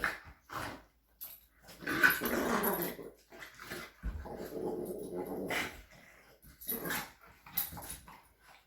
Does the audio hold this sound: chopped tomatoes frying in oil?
no